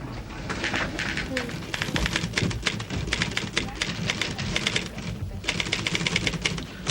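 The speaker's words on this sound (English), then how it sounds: "Finished typing those copies for Mr. Peyton yet" A manual typewriter clacks away in an office, rapid irregular bursts of key strikes with brief pauses, close and steady, while voices talk in the background.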